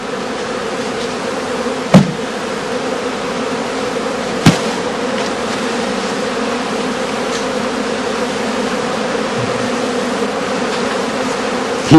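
Honeybees swarm around a beekeeper's skep as he smokes them, a dense, continuous loud buzzing drone close by, broken by two sharp knocks and a few faint taps, no talking.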